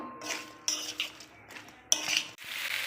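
Mung dal with grated ginger scraped and stirred in a metal pan, giving intermittent clinks and scrapes in three or four bursts with brief pauses, close and moderately loud, with no voices.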